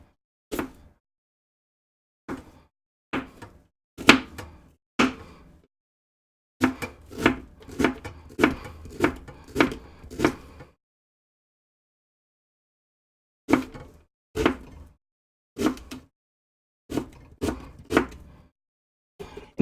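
A knife chops half an onion on a cutting board, sharp close knocks in short bursts of rapid cuts separated by silent pauses, clear and alone.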